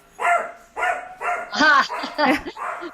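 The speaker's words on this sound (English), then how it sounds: "A dog barking." A dog barks in a run of about six close, loud, yipping barks at a quick, uneven rhythm, heard alone in an indoor setting.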